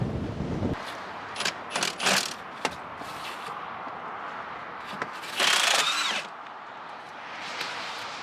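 An 8-point socket on a power tool backing out old square fasteners on a sawmill carriage during restoration, with several short whirring bursts and a longer rattling spin near the end over steady background noise.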